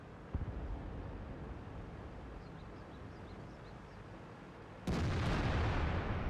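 Tank shells strike and bounce in a World of Tanks battle, with a sharp impact near the start, a steady rumbling battle ambience, then a loud, close blast near the end that carries on as heavy noise.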